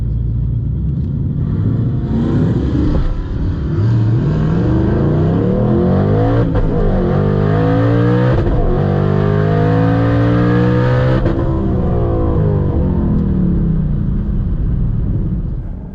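Drag racing car making a full pass on the strip, a loud sustained engine roar climbing through rapid gear-change sweeps and holding near and steady for about fifteen seconds, with no talking.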